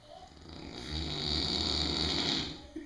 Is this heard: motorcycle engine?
no